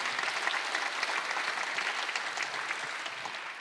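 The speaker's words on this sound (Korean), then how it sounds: "박수 한번 하시고, 이거 신고 거둔 겁니다." Dense applause from a sizable church congregation fills the room, steady and even for a few seconds without talking.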